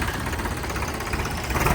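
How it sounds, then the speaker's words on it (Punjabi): A Sonalika 745 tractor engine idles close by with a steady, throbbing diesel rumble and rattling knock that holds an even level throughout, with no talking. "ਆਵਾਜ਼ ਸੁਣੋ ਟਰੈਕਟਰ ਦੀ ਕਿਆ ਘੈਂਟ ਆ"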